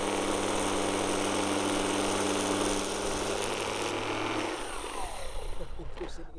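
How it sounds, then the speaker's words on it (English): A weed whacker runs at a steady high-pitched buzzing drone close by while being tested against a Timbren SES rubber suspension spring outdoors, then cuts off after a few seconds and winds down into scattered rustling. "we're gonna take Kevin outside and we're gonna see how Kevin holds up against a weed whacker"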